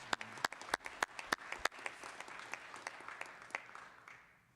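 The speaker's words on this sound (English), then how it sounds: "So let's give Mr. Hampton a round of applause." Sparse applause at a city council special meeting for a ward swearing-in: a handful of people in a quiet chamber clap with distinct, separate sharp claps that thin out and fade after a few seconds.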